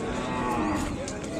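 A high-tempered Ongole bull calf at a bull show lets out one drawn-out moo, loud and close, filling the moment alone.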